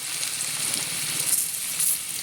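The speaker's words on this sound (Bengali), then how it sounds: "পটল ভাজা তুলে নিয়ে ওই তেলেই আলুগুলো ভেজে নেব" Oil sizzles steadily as potato slices fry in a pan, a close, continuous crackling hiss with no talking.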